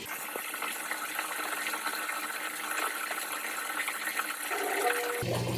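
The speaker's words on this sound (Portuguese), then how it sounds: "Liguei a bomba lá, pessoal. Olha, já começou a descer água aqui." Aquarium overflow sump filter with its pump switched on, water draining down into the sump as a steady close rushing, gushing flow, ending with a brief tonal change.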